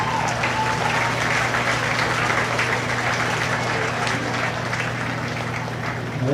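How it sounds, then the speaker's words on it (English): An audience at the Mason County feeder calf show gives a steady round of applause, a dense, even patter of many hands over a low electrical hum, lasting throughout at moderate loudness. "Give this young man, the rest of them, a nice round of applause."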